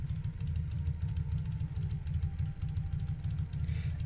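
Low, throbbing engine drone of a Ryan S-C propeller aircraft in a flight simulator, descending, holding a steady pitch, continuous and close throughout, with faint higher rattling on top.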